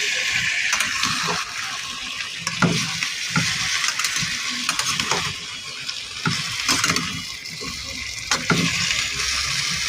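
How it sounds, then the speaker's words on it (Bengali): A curry of papaya, potato and pumpkin is stirred while it fries in a pan. A loud, steady sizzle runs throughout, with repeated scraping and clacking from the spatula against the pan and no talking. "এবার নাড়াচাড়া করে নিচ্ছি।"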